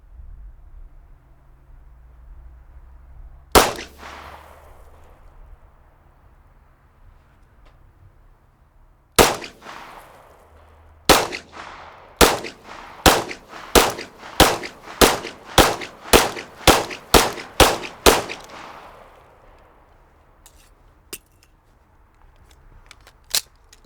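Pistol shots from a close-quarters retention drill at three yards: two single reports spaced apart, then a rapid string of about a dozen sharp, loud shots before falling quiet.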